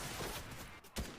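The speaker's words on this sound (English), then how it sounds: "They've given away their position, and they've started firing." Gunfire in an Apex Legends or Fortnite battle royale match crackles in a brief burst, with a sharp report at the end over dense game noise.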